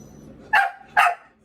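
A dog barks twice, about half a second apart, each bark sharp and fairly close with no talk over it.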